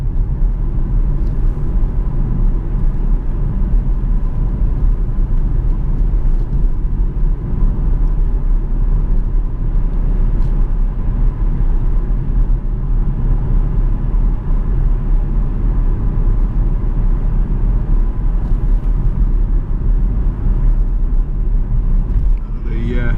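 A 2010 Jaguar XF 5.0 V8 S being driven on a rough road gives a steady, loud low rumble of engine and road noise throughout, with a voice speaking over it.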